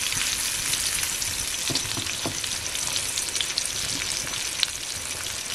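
River fish, a khadas from the Konkan, frying slowly in a pan over a low wood-fired clay stove, giving a continuous loud hiss and crackle close by, with no one speaking.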